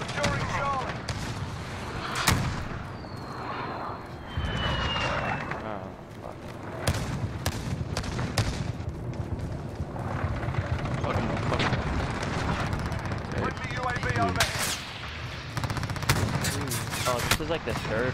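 Automatic rifle fire from a SCAR in the video game Modern Warfare, loud repeated bursts and booming blasts filling the mix nearly throughout, with a player's voice talking over the shooting.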